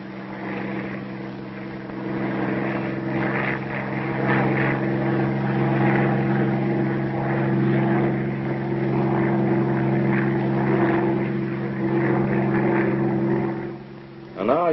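Bell P-39 Airacobra single-engine propeller fighter in flight, a steady loud droning engine hum with strong steady tones held throughout, briefly dropping before the end.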